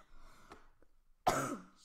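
In a Minecraft game, after a quiet stretch with faint shuffling, a single sharp cough bursts out close by, followed by a short rasp as it fades.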